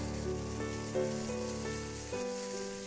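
Chicken pastil sizzles steadily in a pan while being stirred and reduced until it dries, a soft even frying hiss with a faint tonal hum beneath it and no voices.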